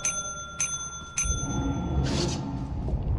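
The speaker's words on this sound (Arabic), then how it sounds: "اضغط الجرس اضغط الجرس عشان يرد عليك" Three bright rings of a bicycle-style bell pressed in quick succession, close and clear with a ringing tail, followed by a rustling, rumbling background.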